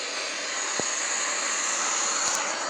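Steady jet engine roar and airy hiss from an Airbus A330-200 on final approach for landing in a flight simulator game, continuous and even with a faint brief thump, no talking.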